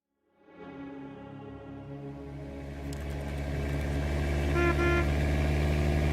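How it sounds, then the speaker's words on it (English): A long, steady car horn in The Stanley Parable: Ultra Deluxe swells in from silence and blares continuously at close range, growing slightly louder over several seconds with no talk over it. "Why is there a car?"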